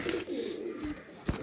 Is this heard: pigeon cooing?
yes